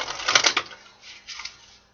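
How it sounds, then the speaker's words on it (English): Tarot cards are shuffled in a couple of quick, crisp riffling bursts, the first louder and the second softer, heard close up with no talking. "One more shuffle, my guides."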